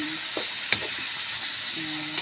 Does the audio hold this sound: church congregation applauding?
no